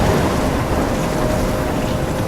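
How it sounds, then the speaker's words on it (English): A raging storm in Life Is Strange, with loud, dense roaring wind, rain and rumbling thunder filling the scene as a constant, unbroken wash of noise. "I'm trapped in a storm?"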